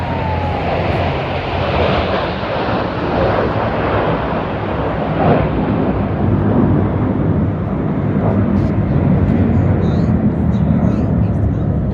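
Aircraft roar low overhead during the Chicago lakefront air show in Streeterville, a loud sustained rumbling drone that swells and fades over a busy downtown shoreline.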